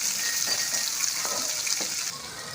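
Green chilies sizzle in hot oil in a pan while preparing Chinese biryani, a steady close frying hiss with a few soft stirring scrapes, no voices.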